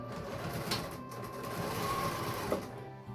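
A sewing machine runs steadily while stitching binding around a quilt with a quarter-inch seam allowance, a close, continuous mechanical hum with no talking over it.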